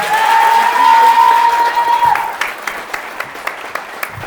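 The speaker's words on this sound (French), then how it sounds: "Alors ça s'applaudit quand même." An audience at a La France Insoumise campaign meeting in Décines applauds. A long whistle carries over the dense clapping at first, and the clapping then thins out into separate claps and dies down.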